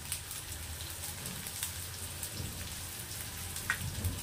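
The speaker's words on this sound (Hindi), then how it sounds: "और इसे अच्छी तरह से भून लेंगे।" Potatoes with turmeric and crushed red chili roast in a pan, giving a faint, steady crackle and patter of sizzling with occasional louder pops.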